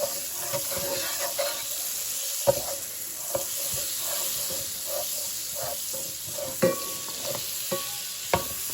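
Celery and carrots for a homemade bolognese cook down in a pan, a steady low sizzle running throughout with repeated scraping stirs and utensil taps, plus a few sharper clinks near the end.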